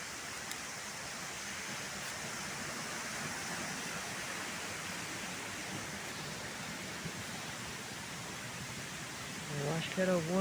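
A hidden waterfall near old brick aqueduct ruins in the Itatinga region, heard as a steady, broad rush of falling water that fills the whole clip, with a brief voice near the end.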